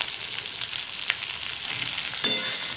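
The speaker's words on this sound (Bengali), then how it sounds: "আদা লঙ্কাটা দিয়ে একটু নেড়ে নেব" Ginger and chili paste frying in a hot pan, a steady hiss with occasional stirring scrapes and a brief clink near the end, no talking.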